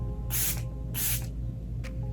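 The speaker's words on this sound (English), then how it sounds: "I'm gonna finish it off with the e.l.f. Stay All Night Micro Fine Setting Spray" An e.l.f. Stay All Night Micro Fine Setting Spray pump mist is sprayed in two clear hissing bursts, followed by a short third spritz, each close and crisp over a quiet room.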